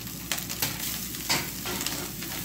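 Onion and dried shrimp fry in a pan with a dense, even sizzle, punctuated by a few crisp stirring scrapes; close and fairly quiet, with no one speaking.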